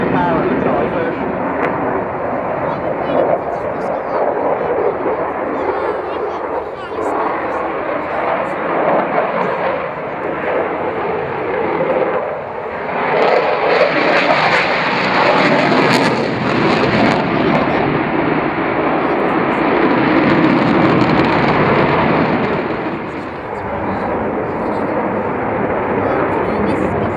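A Eurofighter Typhoon jet roars loudly and continuously during an air-show display at Lowestoft, with the thunderous broadband rush swelling in the middle as it pulls hard overhead.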